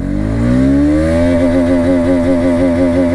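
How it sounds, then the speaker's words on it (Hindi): A 2024 Bajaj Pulsar RS200 BS7 motorcycle accelerating in first gear, its loud, close engine note climbing steadily in pitch as it revs toward the top of the gear. "तो ये मैंने पहला गियर डाल दिया इस बाइक के अंदर और अपन इसके टॉप एंड तक लेके जाएंगे इसको।"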